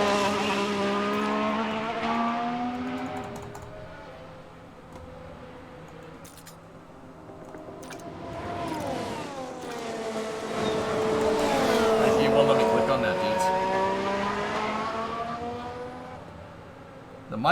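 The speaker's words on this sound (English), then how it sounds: "Might want to turn the car sounds down." Race car engines from the F1 Manager 2022 video game whine at high pitch, rising and falling as cars pass through gears, with a second wave building louder toward the end.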